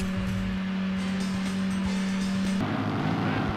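Car in Gran Turismo 2 driving over a noisy curb, a steady engine drone with a strong low tone that shifts near the end as rougher rumble takes over, fairly loud and without talk.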